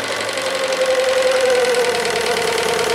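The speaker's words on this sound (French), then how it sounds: "Le bruit que vous entendez est lié au fait que l'arbre d'hélice rejoint la machine via un jeu de pignons en laiton" A live-steam model boat engine running on the water, its propeller shaft driven through brass gears, gives a continuous mechanical whir and a faint tonal whine, close by and fairly loud, with no voices.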